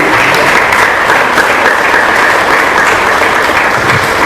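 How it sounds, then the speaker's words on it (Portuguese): A church congregation applauds steadily and loudly, dense clapping sustained throughout without pause, with no speech over it. "Vocês podem aplaudir a Jesus."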